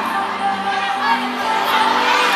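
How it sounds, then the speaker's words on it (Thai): A crowd of schoolgirls at a girls' school event screams and cheers continuously, a dense wall of high-pitched shrieks and whoops. "เสียงกรี๊ดไม่พักกันเลยค่ะ"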